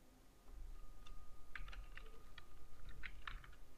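Typing on a computer keyboard produces a quick run of soft, close keystroke clicks over faint background hum, with no voice heard.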